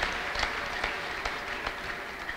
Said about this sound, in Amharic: እስቲ አጨብጭቡ ለጌታ ለኢየሱስ ክርስቶስ ክብር